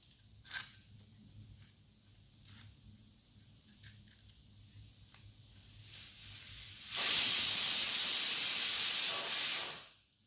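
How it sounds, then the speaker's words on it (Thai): A quiet kitchen with a few faint clicks, then a loud sharp hiss of steam bursting from a pressure cooker for about three seconds before cutting off. "เสียงหม้อแรงดันจะดังนะ"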